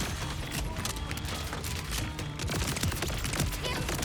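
Turret gunfire in the video game Borderlands 4 comes as dense, rapid bursts of shots and booms that run on without pause. The fire is loud and close.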